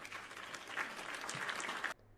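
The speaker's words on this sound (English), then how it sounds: "hey, I got to give an applause to Rodgers for that." Short burst of dense clapping applause as a sound effect on a sports talk show, steady and fairly loud for about two seconds before cutting off abruptly.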